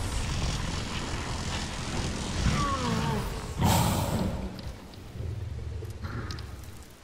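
Thunder rumbles over steady rain in The Last Guardian, a broad crack and roll rising midway through a continuous wash of downpour that keeps going to the end.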